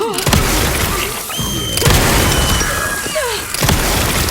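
A heavy, booming hand cannon gunshot blast in Resident Evil Requiem, with crashing debris and ringing, a few loud impacts over dense rumbling noise.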